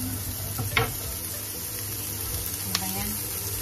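Food being stirred with a ladle in a frying pan, a soft continuous sizzle with a couple of brief scraping knocks, close but fairly quiet, no talk.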